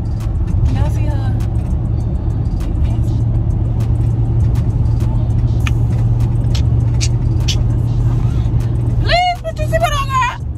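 A car drives along a highway with a steady, loud interior road and engine drone throughout, while people talk and laugh inside over it.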